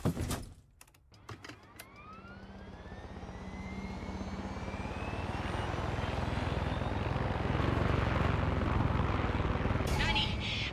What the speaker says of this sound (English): There's an enemy chopper creeping the skies nearby.